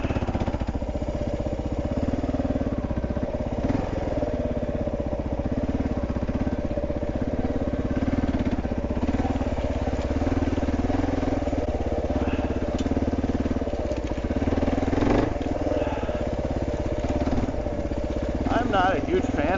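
A Kawasaki KLR650 motorcycle rolls slowly along forest trails at Tahuya, its single-cylinder engine thumping steadily at low revs throughout, with a few brief bumps and rattles over the terrain.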